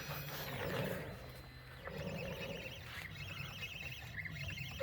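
A Genmitsu 3020 PRO MAX CNC router traversing with its spindle off, its stepper motors whining and buzzing in shifting tones with mechanical rattles, fairly close and with no voices.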